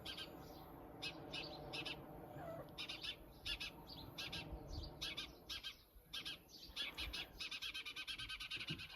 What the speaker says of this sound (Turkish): Kuşlar da konuşuyor.